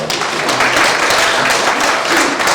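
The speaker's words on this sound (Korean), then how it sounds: "네, 큰 박수." Audience at a poetry recital contest bursts into loud, steady applause, dense clapping filling the hall throughout with no voices over it.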